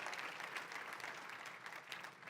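A church congregation applauding together, a steady dense wash of clapping that fills the space evenly from start to finish with no pauses.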